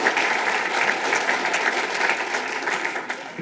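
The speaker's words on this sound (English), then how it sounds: "How about a nice round of applause for former Minneapolis Mayor R.T. Rybak?" Sustained audience applause for former Minneapolis Mayor R.T. Rybak, a dense, steady wash of many hands clapping at an even level throughout with no voices standing out.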